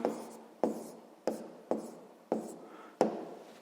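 A pen writes on paper in short, firm strokes: six scratchy bursts, each starting with a sharp tap and trailing off, recorded close up with no voices.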